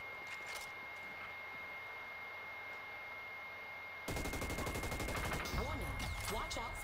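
Gunfire in the online shooter Hyper Scape breaks out suddenly after a quiet stretch, a loud, sustained stream of rapid automatic shots with overlapping impacts, and players talk over the action.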